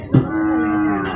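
A PO cow moos loudly and close during loading at the Purwakarta livestock market, a single sustained low bellow after a brief thump, with faint market noise around it.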